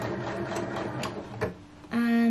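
Home sewing machine running a standard 10 mm stitch along a dress neckline and skirt diagonal, a steady whirring motor hum that builds and settles into a loud sustained drone near the end, with no talk.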